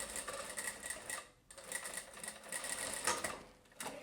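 A sewing machine stitches a thin seam on fabric for a rouleau, rapid close chatter in two short runs separated by a brief stop, fairly quiet with no voices.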